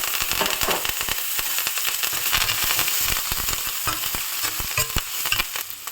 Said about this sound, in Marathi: कढई छान गरम, 1 मोठा चमचा तूप टाकायचं की जिरे, कढीपत्ता आणि मिरची टाकायची.